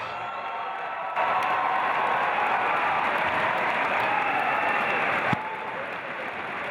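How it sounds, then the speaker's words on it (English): A basketball crowd gives an ovation during a halftime jersey retirement, a dense, steady roar of applause and cheering that begins abruptly and holds at a loud level before cutting back down. "Miles' jersey was retired and got a great ovation from the crowd"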